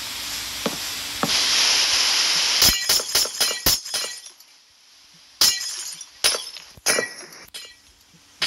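Minecraft glass blocks break one after another in an underwater build, a run of sharp shattering clinks in quick succession, then a few more scattered breaks, heard over a steady watery hiss that fades partway through.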